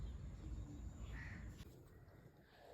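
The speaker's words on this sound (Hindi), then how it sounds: "आवाज़ें आ रही थी पक्षियों की" Faint outdoor morning ambience with crows calling at a distance, a few soft caws over a low background hum, with no talk.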